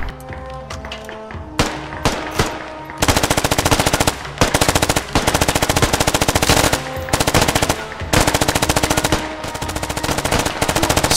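Sustained automatic machine gun fire in the video game Squad, loud and close, with rapid rhythmic bursts running almost continuously after a few scattered opening shots.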